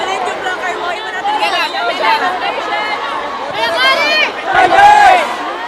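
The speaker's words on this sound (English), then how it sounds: "They were cheering for Choco Mucho loudly." A volleyball crowd at a PVL match cheering for Choco Mucho, a dense roar of voices and shouts that swells and peaks near the end, with close commentary voices talking over it.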